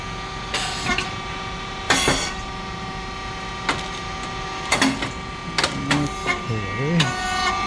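The SYP5804T rice cake machine with coated moulds, switch box and alarm lamp runs with sharp intermittent pneumatic bursts and mechanical clacks at irregular intervals over a steady hum, while a person speaks briefly toward the end.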